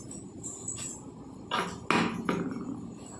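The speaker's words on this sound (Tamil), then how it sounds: "இப்போ எனக்கு லைட்டாக ஒரு சின்ன எக்ஸ்ட்ரா இருக்கிற மாதிரி இருக்குது, அதை நான் லைட்டாக வெட்டிக்கிறேன்." Scissors trimming a small excess strip of paper from a handmade paper gift box, giving a few short close snips that grow louder in the second half over a quiet room hiss.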